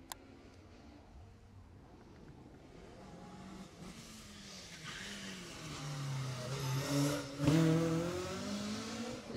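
Rally car 21 on a stage at the Jersey Rally approaches from far off, its engine swelling from faint to loud with rising revs and gear changes as it passes close by.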